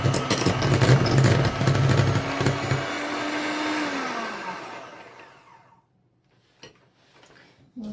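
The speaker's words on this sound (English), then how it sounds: "We want to just cream the butter a little, get it soft, even more soft." Electric mixer creaming butter for buttercream, a loud steady motor whir that winds down and stops, followed by a few quiet clicks and knocks.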